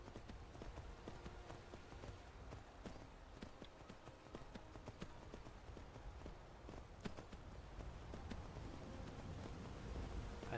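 Steady clip-clop of horse hooves in Skyrim, a continuous rhythm of hoofbeats at a riding pace, quiet and even, set against soft outdoor ambience with no talking.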